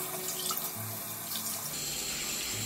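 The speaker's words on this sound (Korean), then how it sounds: "얘도 헹궈 줄게요." Lukewarm tap water runs steadily while hair is rinsed beneath it, a soft continuous splashing stream at low volume with no talking.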